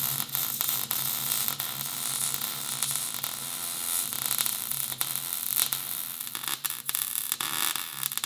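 A Can-Am X3 frame repair is welded, giving a continuous crackling, buzzing hiss with a low hum throughout, steady and close.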